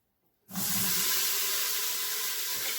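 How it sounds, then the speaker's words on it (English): A sudden loud, steady hiss of extra virgin olive oil sizzling in a hot pan starts after a brief quiet moment and continues evenly without any talk. "Hear that sizzle, just like a fry pan."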